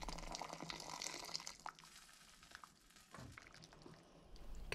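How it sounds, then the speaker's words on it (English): Hot water is poured into a kimchi tomato soup, giving a faint, soft liquid splashing and trickling that runs for a few seconds with small gurgles. "Now let's pour in our hot water."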